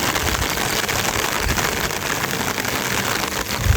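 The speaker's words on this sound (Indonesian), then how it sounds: "Suasananya masih hujan, lumayan gede" Heavy rain at the Annapurna campsite, a steady broadband patter drumming close by on tents and surfaces throughout, dense and unbroken with no voices.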